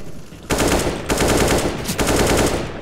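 Automatic gunfire in the video game CS:GO: loud, rapid bursts of machine-gun shots in several strings separated by brief pauses, close and alone without talk.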